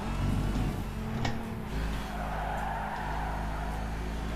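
Tires of a heavy race car squealing as they fight the car's weight through a corner in Gran Turismo 5, a sustained screech over a loud, droning engine, steady for several seconds.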